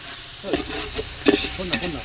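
Tomato, ginger and garlic sautéed in a pan for Chennai-style chicken biryani, loud close sizzling with several quick scraping stirs and clinks of the spoon.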